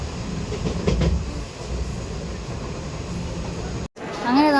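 A train at Kozhikode railway station gives a steady, loud rumble with rail clatter throughout, briefly cut off near the end, and a rising whine follows.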